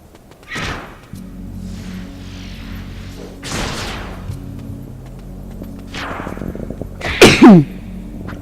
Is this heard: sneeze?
yes